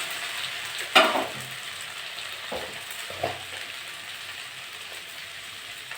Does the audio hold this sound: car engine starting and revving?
no